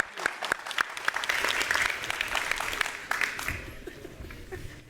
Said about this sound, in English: A round of applause, please, as Stephanie comes.